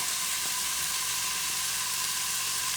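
Chopped onions browning in a pot for a shrimp and okra gumbo give a steady, close, even sizzle and frying hiss with no voices.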